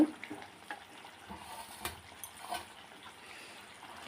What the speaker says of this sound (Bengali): এখন আমি মাছগুলো ছেড়ে দিচ্ছি